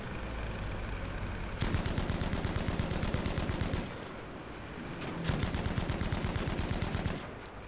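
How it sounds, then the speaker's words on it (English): Anti-aircraft gun firing in Battlefield V, two long bursts of rapid, evenly spaced shots, loud and close, separated by a short pause. "Back on my AA gun."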